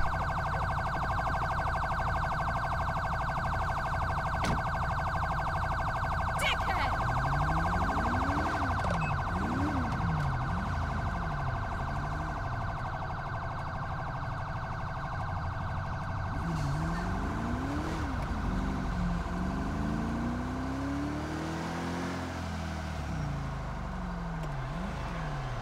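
Police car siren in the Grand Theft Auto V game, wailing and yelping continuously for the whole stretch over a steady engine drone, loud and close with repeated rising and falling sweeps.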